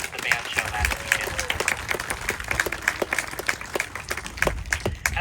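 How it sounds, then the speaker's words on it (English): An audience at the Walsh Jesuit Warrior Corps preview show applauds band show volunteers, with many hands clapping in a dense, continuous patter from nearby and a faint voice underneath. "So can we give a round of applause to anyone and everyone who helped at the band show last weekend?"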